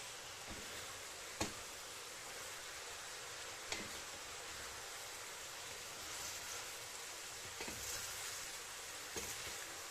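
Meat sauté with peppers and rosemary sizzles steadily in a pan while being stirred, with a few sharp utensil clinks against the pan over the constant frying hiss.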